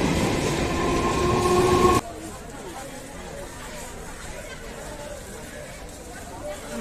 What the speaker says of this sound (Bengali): আমাদের মাঝেরহাটের ট্রেন ঢুকছে।